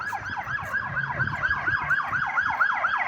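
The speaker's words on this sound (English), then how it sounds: "As soon as I said that, they shut off the siren." An emergency vehicle siren wails on a city street in Newark, New Jersey, its rising and falling cycles repeating steadily and loudly over the low rumble of traffic for the whole stretch.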